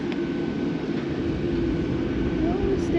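Airliners at Tokyo Haneda airport heard as a steady, distant jet engine rumble and whine that holds evenly throughout, with a faint higher tone drifting through the low roar.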